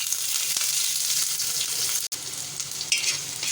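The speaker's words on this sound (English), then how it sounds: "Then add onions." Onions sizzling and frying in 3 to 4 tablespoons of hot oil at the start of a scrambled egg recipe, a steady close hiss with a brief break near the middle and slight stirring.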